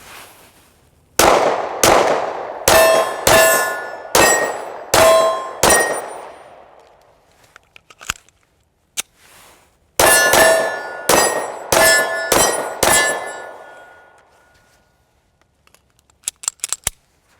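Sig Sauer P365 XL 9mm pistol fired at an outdoor range: two strings of sharp, loud shots, six in each, spaced about half a second apart, each with a ringing tail and a gap between the strings, then a few faint later cracks.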